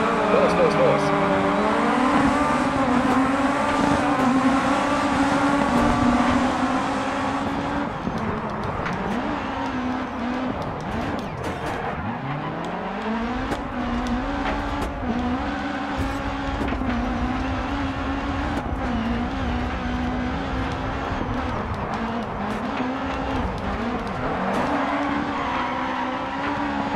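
Rallycross race cars roar through a Dirt 4 video game race, a loud continuous engine drone with rising and falling revs and shifting pitch, plus brief tire scrubbing as the cars accelerate and corner.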